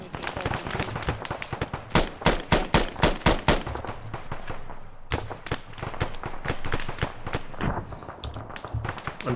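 Automatic weapons fire in the military shooter ArmA: a run of sharp, rapid bursts in the middle stands out loudly, with scattered shots before and after amid ongoing battle noise.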